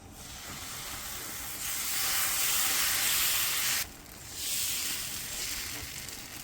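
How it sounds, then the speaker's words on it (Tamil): Pearl millet dosa batter hitting a hot griddle gives a steady, close sizzling hiss that swells, briefly drops off, then rises again as the batter spreads. "இப்போ கல் காஞ்சிருச்சு, நம்ம தோசை ஊற்றுவோம்"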